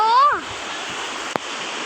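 Sea surf at Ao Nang beach in Krabi rushes and splashes close by in a steady, loud wash, opening with a brief excited voice and broken by one sharp splash near the end.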